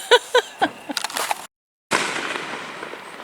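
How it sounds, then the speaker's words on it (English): Fireworks being set off around town ahead of the 4th of July, heard as several sharp pops and crackles at a distance, then a brief gap and a sustained rumbling crackle that trails off. "People are setting off fireworks all over town."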